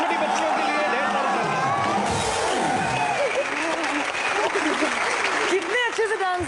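A studio audience claps in a dense, sustained wash of applause for a young girls' dance performance, with crowd murmur and voices mixed into the steady clapping.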